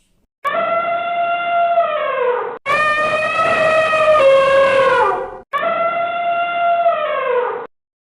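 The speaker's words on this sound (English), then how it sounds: "Elephant trumpets." An elephant trumpets in three long, loud, brassy blasts of a few seconds each, separated by short gaps, close and alone.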